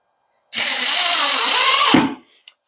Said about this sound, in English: So I'm gonna anchor to the tabletop, a couple short screws